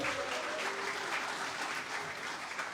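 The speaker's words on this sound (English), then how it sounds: "Round of applause" Steady applause from an audience at a Christmas presentation night, a dense wash of many hands clapping at an even level for the whole stretch, with no voices standing out.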